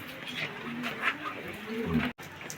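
Taiwan pigeons kept for buying and selling coo softly in low, rolling notes over a steady hiss of background noise, fairly close.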